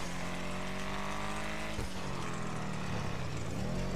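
A truck passes in GTA V while a car engine drones loudly and steadily. A heavy low rumble swells and shifts midway through, with no talk.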